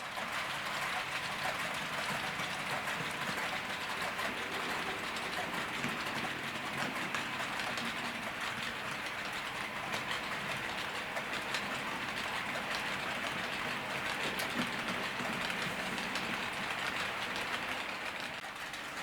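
A model Class 87 electric locomotive runs steadily along its track, a continuous whirring and rumbling hum with faint clicking, no talking, at a constant level throughout.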